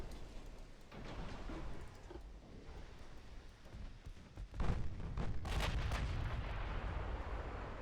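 Battleship guns firing in the naval combat game Ultimate Admiral, a faint rumbling wash of distant artillery booms with a couple of stronger blasts midway, low in level and with no talk.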